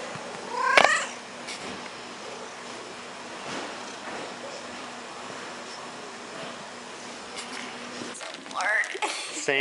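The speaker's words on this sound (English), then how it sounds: "It's a very cute cat, and it purrs really loud." A barn cat meows in a few short calls near the start and again at the end, fairly close, over a quiet low hum of room noise with faint background sounds.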